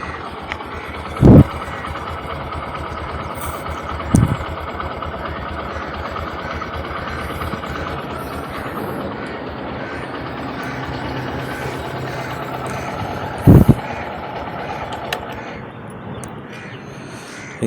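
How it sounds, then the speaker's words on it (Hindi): A Honda CD 110 Dream Deluxe motorcycle engine idles steadily throughout with a low, even rumble, punctuated by a few sharp knocks or clunks. "तो मैंने बाइक स्टार्ट कर लिया है।"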